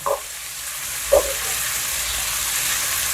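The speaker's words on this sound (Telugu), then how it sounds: "సో ఇట్లా మంచిగా గోల్డెన్ బ్రౌన్ కలర్ అయ్యేదాకా వేయించుకోవాలి" Chicken curry ingredients frying in a pan until golden brown, a steady close sizzle broken by two brief stirring clinks near the start.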